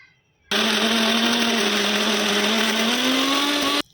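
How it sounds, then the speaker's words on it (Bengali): An electric blender grinds coriander powder with cardamom, cloves and cinnamon, starting abruptly into a loud, steady whir that holds for about three seconds, its pitch creeping slightly upward before it cuts off. "ধনের গুঁড়ো এবং এলাচ, লবঙ্গ আর দালচিনি একসঙ্গে নিয়ে ব্লেন্ড করে নিয়েছি"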